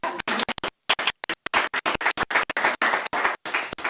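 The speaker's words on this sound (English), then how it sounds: "Can we give them a round of applause?" Audience applause at a board of education work session: a few seconds of dense, irregular clapping, loud and close, with brief gaps between bursts and no voices.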